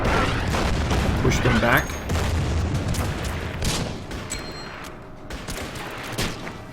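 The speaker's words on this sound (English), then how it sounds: "So just artillery here." Artillery fire in the Order of Battle strategy game, set in a desert campaign at Halfaya Pass: loud, continuous booming barrage with rumbling blasts and crackling reports, and someone speaks briefly over it.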